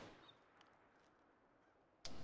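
Gunfire at birds in the video game Fallout 4: a low hiss of game ambience with a few faint ticks gives way to one sudden loud shot right at the end.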